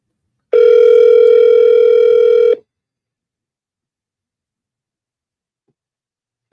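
A steady telephone dial tone sounds alone for about two seconds before a call is placed, then cuts to silence, with a brief click of it returning at the very end.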